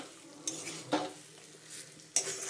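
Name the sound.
fried meat being stirred and fried with masala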